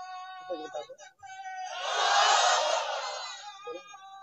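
Crowd at an Islamic religious gathering (waz mahfil) shouting the takbir in unison, a loud swelling collective cry rising after a short lead-in call and fading out, with a voice calling before and after.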